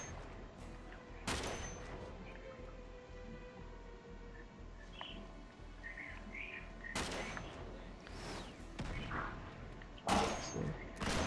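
Gunfire from shooting enemies in Uncharted 3 co-op at a monastery: rapid repeated shots with a few heavier bursts, fairly faint and continuous through the stretch.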